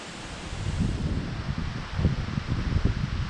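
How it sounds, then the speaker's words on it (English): Strong high wind gusts across a riverside campsite, a continuous loud blustery rumble buffeting the microphone with rising and falling surges. "I don't know whether you're hearing me or not with this wind"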